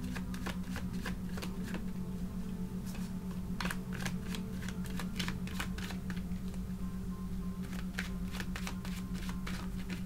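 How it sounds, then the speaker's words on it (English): Repeated crisp riffling bursts of a deck of cards being shuffled, steady and close, over a low constant hum. "All right, so I am done shuffling."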